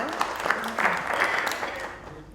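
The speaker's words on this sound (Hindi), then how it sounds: "हंसने की तालियां भी बजा सकते हैं।" An audience claps together at a live open-mic stage evening at Prithvi Theatre in Juhu, a steady wash of applause lasting a couple of seconds before gradually thinning out.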